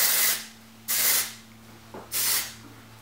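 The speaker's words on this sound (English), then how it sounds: "take a little bit of this Oribe Après Beach Wave and Shine Spray" Oribe Après Beach Wave and Shine Spray misted onto hair, three distinct hissing bursts from the aerosol nozzle, close and clear with pauses between.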